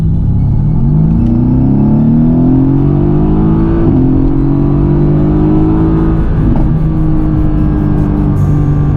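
A Mercedes-AMG GT in Sport Plus mode accelerates at full throttle, close and very loud, its deep engine roar climbing in pitch through one long pull with a brief shift midway and no talk.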